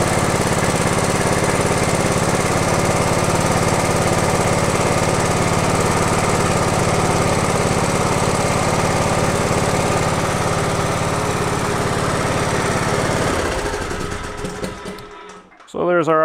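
A small engine idles steadily at roughly 2100 RPM, loud and close with a constant buzzing drone for most of the span, then sputters down and stops near the end.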